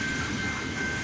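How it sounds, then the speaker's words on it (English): Freight train with two locomotives at the rear rolling past a crossing, a steady, loud roar of wheels and rail noise with no breaks, heard alone. "And it's got two locomotives at the end of the train."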